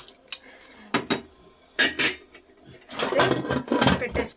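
Goat head curry being stirred in a pressure cooker with added water, giving a few loud clanking and scraping bursts of a utensil against the metal pot, spaced irregularly and then clustering toward the end.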